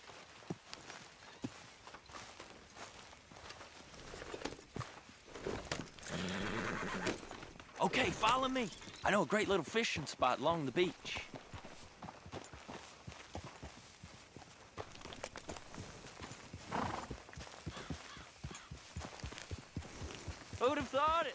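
Horses neigh and hooves clip-clop in Red Dead Redemption 2, mixed with the characters' talk; a loud whinny stands out midway, and the hoofbeats keep walking under speech throughout.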